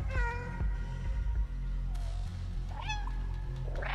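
Repeated meows from the cat in Stray: one clear cry at the start, then a rising mew and a pair of quick calls near the end, all over a constant low background hum.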